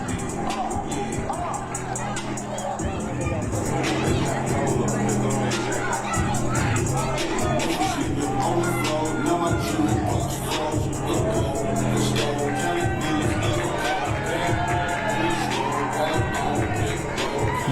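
A crowd at a wrestling match in Denham reacts with murmurs and scattered calls, a broad babble that carries on under a commentator talking.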